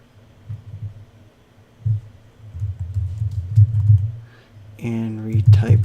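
A command typed on a computer keyboard: soft scattered key clicks and clusters of taps close by, with a voice speaking briefly at the end.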